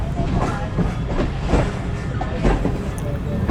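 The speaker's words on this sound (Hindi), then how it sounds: "ट्रेन एक दफ़ा रुक के फिर चलना शुरू हुई है" The Allama Iqbal Express from Sialkot to Lahore runs along the tracks with a loud rhythmic clickety-clack of wheels over rail joints and a steady rumble, with a voice speaking over it.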